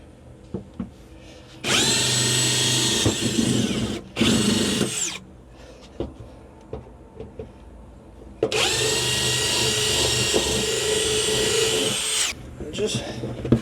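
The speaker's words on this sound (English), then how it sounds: "So let's get this battery box drilled out." A power drill bores 3/16 inch holes in an RV battery box, with two long, steady high-pitched whining runs separated by a short burst and a pause, all close up, with faint background sounds between them.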